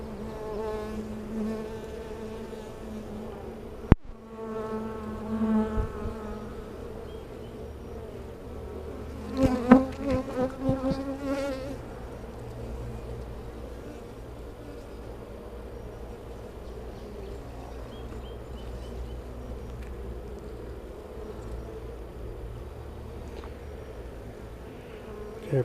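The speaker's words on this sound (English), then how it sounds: "Couple of guard bees coming after me a little bit." Honeybees buzz steadily around an open hive during an inspection, a dense, continuous drone close by, with a few guard bees swelling louder and more agitated for a couple of seconds midway.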